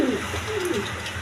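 At a pigeon farm selling breeding pigeons, a pigeon gives a short, close, low cooing call with a rolling, throaty quality, heard alone.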